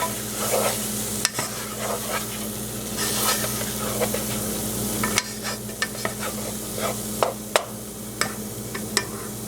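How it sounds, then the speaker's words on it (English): Ingredients stirred into a pot of baked potato soup, with repeated close scraping and clinking of a spoon against the pot over a steady low hum, plus faint sizzling, no voices. "And stir that in."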